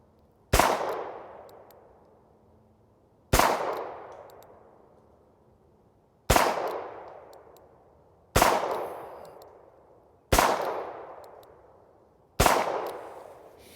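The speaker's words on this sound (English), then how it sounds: "This time we're shooting the 4-inch gun" Six loud, sharp gunshots from a 4-inch Armscor M200 .38 revolver ring out one at a time, a few seconds apart, each with a quick decaying echo.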